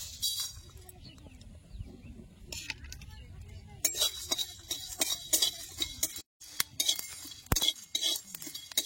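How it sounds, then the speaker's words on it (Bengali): Cumin, coriander and three dried red chillies dry-roasting in a pan, giving scattered clinking ticks and scrapes of spices stirred against the metal, close by and fairly loud, with a quieter low rumble early on. "এগুলো আমি শুকনো খোলায় সুন্দর করে ভাজে নেবো।"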